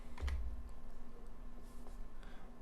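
Keys tapped on a computer keyboard while entering web page code, a quick burst of close clicks followed by a few sparser taps over a faint steady hum, no voices.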